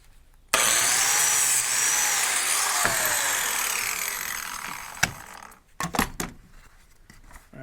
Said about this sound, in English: it's far enough away from the slot I'm making that it shouldn't affect the biscuit.